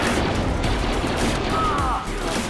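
Enemy gunfire in the Star Wars Battlefront Classic Collection game, a dense rattling barrage of shots with booms, loud and continuous, briefly dipping near the end.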